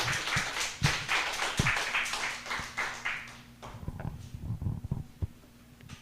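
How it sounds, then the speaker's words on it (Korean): A Korean church congregation claps during a Sunday morning service as a teacher comes forward. The applause is fairly close and dense, then thins to a few scattered claps before fading out. "박수 해주세요."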